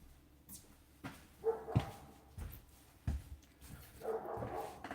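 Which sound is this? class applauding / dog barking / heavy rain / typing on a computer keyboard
dog barking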